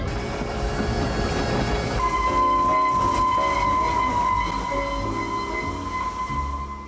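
A Ffestiniog Railway train moves along the narrow-gauge line with a steady rumble and clatter of carriages, and a sustained whistle tone sounds over it, loud and close from inside the moving train.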